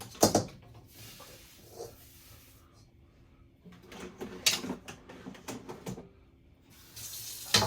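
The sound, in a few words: running tap water rinsing egg off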